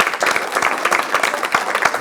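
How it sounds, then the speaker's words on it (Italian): A seated audience at an Italian evening talk bursts into brisk, loud applause, with many hands clapping in a quick, even patter for two seconds. "Faccio l'applauso a voi per la pazienza"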